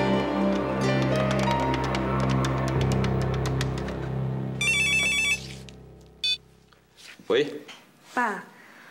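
A telephone ringing in a household scene from a Taiwanese drama, its rapid electronic trill bursting out loud and near after a stretch of music, followed by brief speech.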